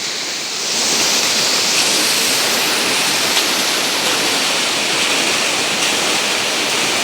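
Water rushes steadily and loudly at the Beyazsu stream, a close, continuous roar of flowing water with no talking.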